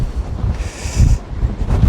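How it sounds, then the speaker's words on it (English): Steady wind buffets the microphone with a low rumbling roar that rises and falls in gusts. "Wow, it's a windy day."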